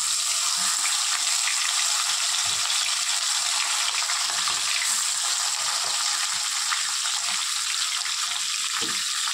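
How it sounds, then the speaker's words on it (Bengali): Fish pieces rubbed with salt and turmeric sizzle steadily in hot oil in a pan, a dense continuous hiss with no talk. "এখন আমি মাছগুলো ভেজে নেব।"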